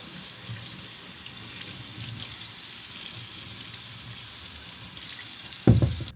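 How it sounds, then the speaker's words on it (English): Lukewarm tap water runs steadily over a hunting boot being rinsed, a continuous soft hiss of spray and splashing throughout, ending with a brief louder splash or knock at the close. "So what we're gonna do now is rinse it off, and we are going to scrub it down with the towel"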